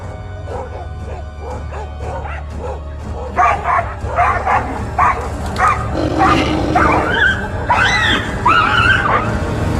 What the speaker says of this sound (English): dogs are the first to sound the tiger alarm